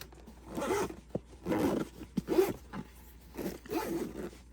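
A zipper is drawn closed on a camera bag holding GoPro Hero 11 action cameras, several close, rasping pulls in quick succession, each a short burst with brief pauses between.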